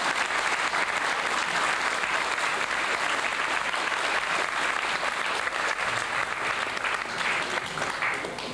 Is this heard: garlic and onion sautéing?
no